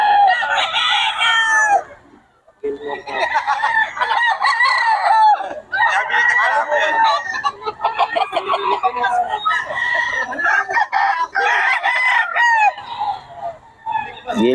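A Gilmore Hatch gamefowl rooster crows loudly and close, with clucks and other fowl mixed in and voices talking throughout.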